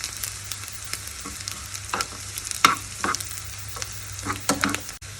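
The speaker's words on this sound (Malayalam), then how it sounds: "ഉള്ളി ഒരു പകുതി മൂത്ത് കഴിയുമ്പോൾ എടുത്തു വച്ചിരിക്കുന്ന കാഷ്യൂനട്ടും ഉണക്കമുന്തിരിയും അതിലേക്ക് ചേർത്ത് കൊടുക്കാം" Onions fry in oil with cashew nuts and raisins as they are stirred, a close crackling sizzle broken by repeated spoon scrapes and clinks against the pan.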